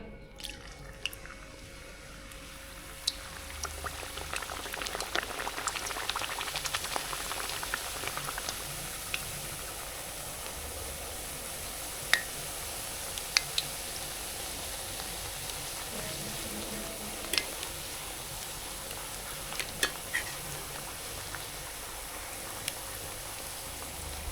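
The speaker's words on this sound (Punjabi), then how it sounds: "ਲਓ ਆਪਣਾ ਰਫੈਂਡ ਗਰਮ ਹੋ ਗਿਆ ਹੁਣ ਆਪਾਂ ਵਿੱਚ ਪੂਰੀ ਪਾਵਾਂਗੇ" A puri fries in hot oil, giving a continuous bubbling sizzle with scattered crisp pops and crackles, moderately close and steady, with no voices.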